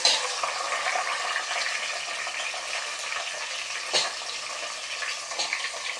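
Tomatoes and green chillies frying in a pan for a fish curry, a constant close sizzle with a couple of sharp stirring knocks and scrapes, no talking.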